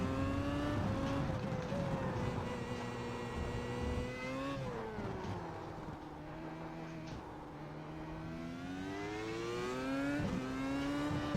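Open-wheel race car engine in the iRacing Grand Prix Series, loud and continuous, pitch climbing and falling through shifts and hard braking, no talking over it.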